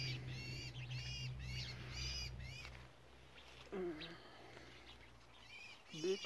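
Small birds chirp and squawk in bursts around a vegetable garden, fairly close and clear, over a steady low hum, with a few people talking nearby.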